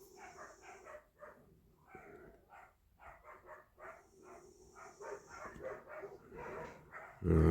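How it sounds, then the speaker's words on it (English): Several neighbours' dogs bark in the distance at a workbench restoring a Dinky Toys Land Rover fire truck, a steady run of short yaps and barks over about seven seconds, with a louder knock at the end. "Dogs are off. Not mine, these are the neighbours' dogs."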